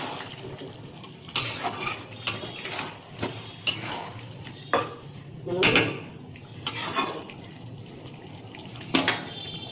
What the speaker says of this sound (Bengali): এবার এগুলো দিয়ে ভালো করে একটু কষাবো